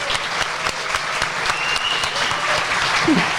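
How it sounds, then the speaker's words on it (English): A live audience at the Podium Paddock claps in a dense, steady round of applause that fills the space throughout, with a faint voice briefly audible near the end. "Give yourself a round of applause"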